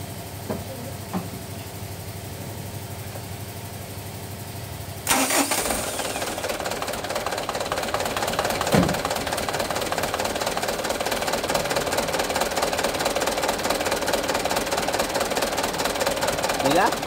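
A car engine, just fitted with new air and fuel filters, cranks and catches after a quiet start, then settles into a steady, close idle for the rest of the clip.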